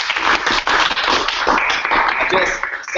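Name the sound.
audience applause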